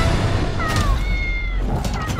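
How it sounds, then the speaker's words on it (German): A big cat meows in a few drawn-out, rising and falling calls over a low rumbling background, close and fairly loud, in a film trailer for Night at the Museum: Secret of the Tomb. "Von der großen Katze wegrennen."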